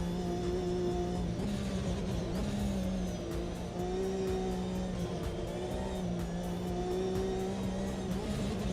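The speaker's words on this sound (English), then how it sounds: "A lot of feathering of throttle at the moment." A race car engine drones steadily in a racing video game, its pitch wavering up and down as the throttle is feathered, loud and continuous with no talking.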